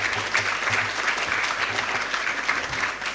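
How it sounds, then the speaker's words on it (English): An audience applauds student awardees at a humanities and education awards ceremony, a loud, even wash of many hands clapping that holds steady throughout with no voices over it. "I would like you all to give our awardees today a rousing round of applause"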